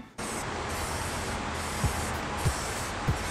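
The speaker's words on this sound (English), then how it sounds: "Just spray and wait for about 30 minutes to dry and spray again" A steady, close hiss of aerosol lacquer finish being sprayed on a wooden box runs continuously for a few seconds, starting abruptly, with a few faint low thumps underneath.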